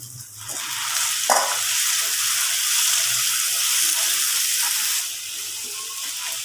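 Loud, steady sizzling of tomato pieces dropped into hot oil with frying prawn curry, a broad hiss holding throughout with a brief clatter early on and a slight drop near the end.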